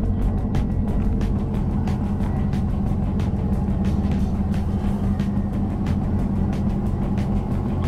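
A 2021 Ram TRX pickup rolls slowly in reverse down a boat launch ramp, its engine a low steady rumble with faint tire crunching, close and continuous throughout.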